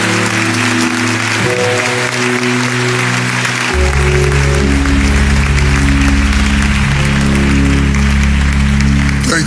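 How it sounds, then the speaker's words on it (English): Loud, sustained applause from a large crowd at a graduation fills the space, with a low droning tone running underneath throughout. "give our graduates a big round of applause"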